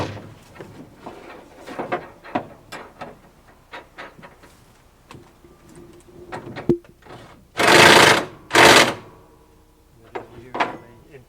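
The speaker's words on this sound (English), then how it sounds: "Always use the impact wrench when tightening these bolts." Impact wrench tightening bolts on a sheet pile capping beam fitted with anti-vibration washers, two loud sustained bursts near the middle amid clinks and handling knocks.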